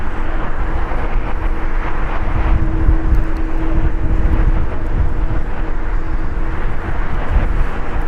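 An Ita Airways Airbus A350-900 jet arriving at LAX after a flight from Rome, a loud steady low roar of engines with some wind rumble, heard without voices.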